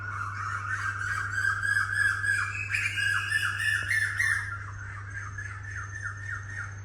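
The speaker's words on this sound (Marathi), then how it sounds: "असं पक्ष्यांचा आवाज येतो आहे छोटा छोटा." Small birds call repeatedly in short, bright chirps and squawks over a steady low hum on a quiet morning in Hampi, then the calls thin out and grow quieter.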